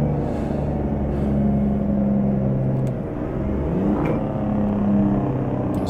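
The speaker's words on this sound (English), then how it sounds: "I was waking everyone up by using my engine brake as I pull into this little settlement." Mack truck with an EM6 engine and five-speed transmission in American Truck Simulator, a loud low rumbling engine-brake drone that rises and falls as the truck slows into a small settlement, heard alone and close.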